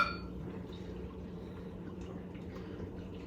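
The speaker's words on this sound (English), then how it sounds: "Pour that in." Liquid ingredient being poured into a tuna noodle casserole in a home kitchen, a continuous soft trickle and splash heard close up for a few seconds without speech.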